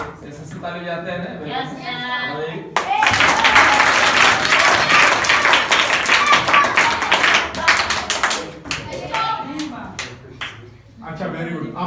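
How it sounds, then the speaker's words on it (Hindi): Children in a Hindi-speaking classroom at a composite primary school in Azamgarh break into loud, sustained group applause for themselves, with clapping starting abruptly and fading after several seconds, with an adult voice heard before and after. "अब अपने लिए ताली बजाओ, अपने लिए, खुद के लिए बजाओ।"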